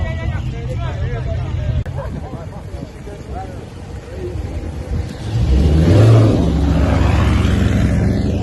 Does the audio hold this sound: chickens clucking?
no